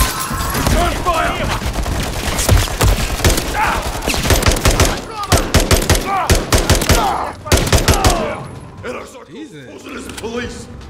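Call of Duty MW3 campaign gunfire: rapid automatic bursts and sharp single shots crack in dense clusters close by, with brief pauses between volleys and a quieter stretch near the end, while voices speak over the fighting.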